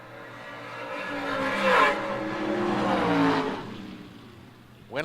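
A Chevelle drag race car launches down the left lane at a Big Buck Nationals drag race, its engine note rising and swelling over a few seconds as it pulls away from near to farther off.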